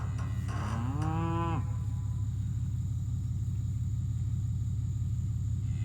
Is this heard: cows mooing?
yes